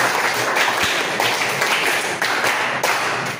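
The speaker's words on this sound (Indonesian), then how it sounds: "tepuk 3 kali, tepuk 4 kali, tepuk 5 kali, 2 kali, tepuk 5 kali" Schoolchildren in a fourth-grade class clap together in a counting clap game, a steady dense patter of many hands close by, continuous for several seconds with small surges in the rhythm.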